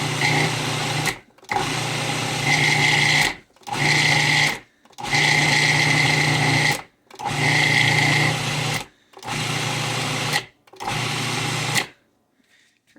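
A food processor chops fresh parsley in seven short pulses of a high, whirring motor. Each burst lasts one to two seconds and is cut off by brief silences, with the whine steady and close.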